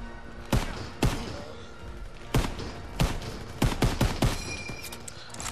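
Gunfire in the World War II shooter Call of Duty WWII, a battle around a farm: sharp, loud separate shots at uneven intervals, some in quick pairs and clusters, with faint background noise between them.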